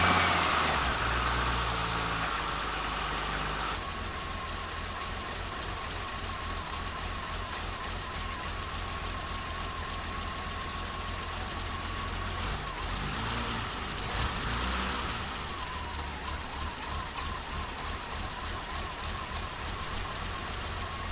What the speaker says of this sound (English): the car still has the funky idle condition